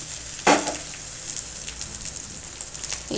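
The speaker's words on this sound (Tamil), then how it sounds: "இப்போ இந்த ஸ்டேஜில் நம்ம வறுக்க வச்சுருக்கிற வெண்டைக்காயை போட்டுடலாம்" Okra dropped into a hot pan of fried onions sets off a sudden burst of sizzling, which settles into a steady, close crackle of frying in oil with no talking.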